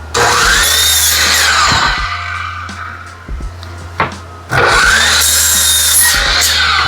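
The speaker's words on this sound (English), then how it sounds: "So we're gonna go over to the miter saw and get them cut" A miter saw slices through pieces of reclaimed pallet wood, two loud close cuts with a screaming whine and rasping bite, separated by a quieter pause with a few knocks as the board is repositioned.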